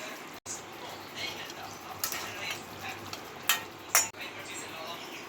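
Chicken in yogurt gravy cooking in a pan, a faint sizzle under occasional stirring scrapes and a few sharp clinks of the spoon against the pan, close and quiet.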